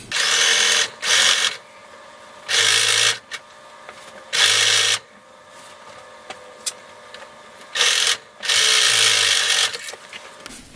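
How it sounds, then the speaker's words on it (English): A sewing machine joins the neck of a hood to the neck of a child's robe, running in several loud, close bursts of a few seconds each, separated by quieter pauses. "you are going to sew the neck of the hood to the neck of the robe"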